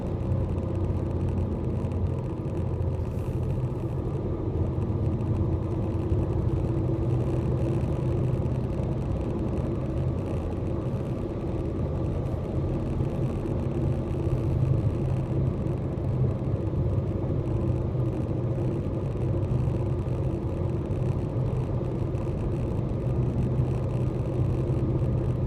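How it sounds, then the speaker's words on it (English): Interior road noise from a Mazda 3 moving fast on a highway after an on-ramp: a steady low rumble and whir of engine and tires, continuous and even throughout. "It's actually got some pretty decent acceleration. I'm coming down off the ramp, but we're already at 80 miles an hour"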